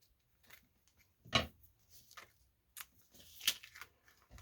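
Dull scissors cutting paper for a junk journal, a handful of short, sharp snips and crisp paper rustles spaced irregularly at close range in a quiet room.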